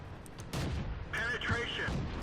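A Type 1 Chi He tank cannon firing in World of Tanks: several sharp, booming shots over a continuous rumble of game ambience, with a voice talking faintly in the background.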